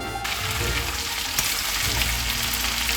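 Raw fish, prawns and steamed mussels cook in a pan for seafood pasta, giving a steady, close, loud frying sizzle that runs unbroken with no talk over it.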